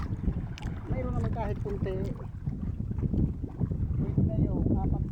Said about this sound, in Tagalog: hindi kaya namin paano yung bangka namin kasi lumalakas ng hangin